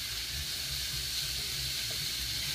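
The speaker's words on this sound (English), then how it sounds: "That sizzle, though." Onions and carrots sizzle in a pan in a steady, bright hiss that stays even and close throughout, with no talk over it.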